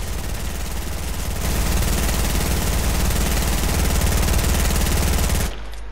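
Sustained rapid automatic gunfire blasts at a wall in the video game Fortnite, a loud continuous stream of shots that intensifies after a second and stops abruptly near the end.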